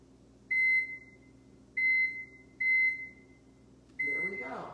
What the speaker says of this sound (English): I'm going to put the timer on 30 minutes.